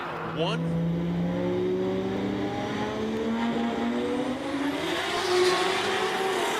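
Drag racing car launching off the line at a Carolinas street drag event, its engine rising steadily in pitch as it pulls away under a commentator's voice.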